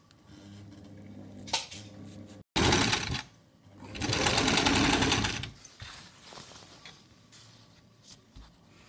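A sewing machine stitches lace onto a long gown, running in short bursts with rapid mechanical clatter, one longer loud run in the middle and quieter handling noises between.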